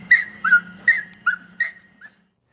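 A hunting dog whimpers and yips in five or six rising, plaintive cries spaced about half a second apart, close and clear, the last one shorter and fainter.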